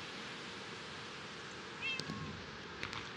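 A cat meows once in the Minecraft minigame Mineplex, a short synthetic game meow rising over steady background hiss, followed by a couple of faint clicks.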